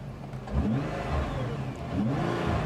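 A Nissan R35 GT-R engine revs up in short bursts, rising and falling twice in under three seconds, close and fairly loud with no talk over it.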